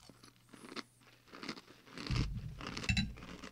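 Crunchy Sour Patch Kids cereal is chewed up close, starting with faint bites and building into louder, steady crunching and mastication with no talking.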